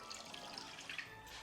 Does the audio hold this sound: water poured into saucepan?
yes